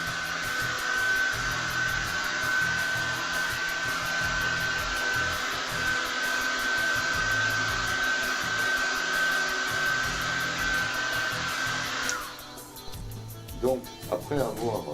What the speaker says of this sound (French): vous pouvez accentuer le séchage avec un sèche-cheveux